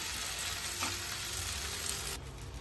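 Steady, close sizzling of a wheat flour dosa cooking on a hot pan, a continuous crackling hiss with no voices.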